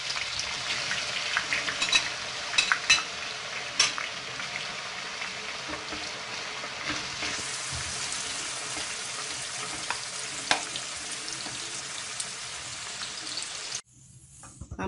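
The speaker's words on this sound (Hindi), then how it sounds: "अब हम ऑनियन फ्राई करेंगे।" Onions frying in a bowl's worth of hot oil for Hyderabadi mutton haleem give a steady, close sizzle, with scattered clinks and stirring, before cutting off abruptly near the end.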